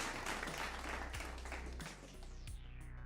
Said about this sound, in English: That gets a round of applause.